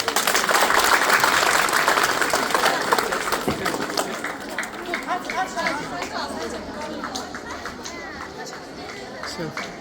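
Applause from an audience at a village school's last-bell awards ceremony, a dense crowd clapping loudly at first and fading over several seconds into scattered claps and chatter.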